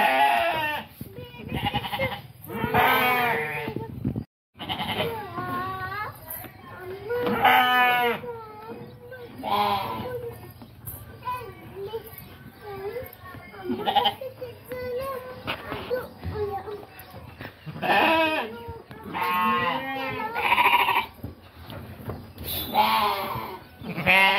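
Sheep and goats bleat repeatedly inside a sheep shed, loud overlapping calls near and far, mixed with a voice and other people talking.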